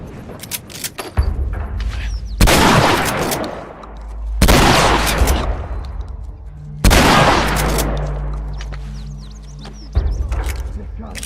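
Heavy shotgun blasts from The Last of Us gameplay, four loud booming shots spaced a couple of seconds apart, each with a long rumbling decay, over faint background game ambience.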